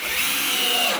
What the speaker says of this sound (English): Now we got the Ryobi drill.